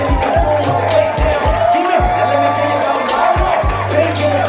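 A wrestling crowd at a live event cheering and whooping in a loud, continuous roar, with scattered shouts rising over it and a voice talking near the mic.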